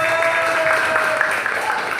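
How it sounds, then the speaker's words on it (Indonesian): An audience at a high school orientation in Sleman claps together in a dense, loud, continuous patter, with voices mixed in. "Tepuk tangan dong"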